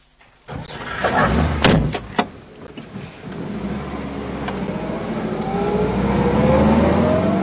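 Car near a Porsche in an animated desert adventure: a sharp door thud followed by an engine starting and revving, rising into a sustained, building roar that grows louder toward the end.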